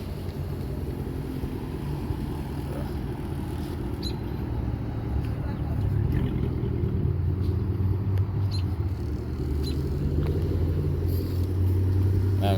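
A straight-piped Chrysler 300C with a Hemi V8 rumbles steadily from outside during a pull, its low exhaust drone swelling louder toward the end with voices talking over it.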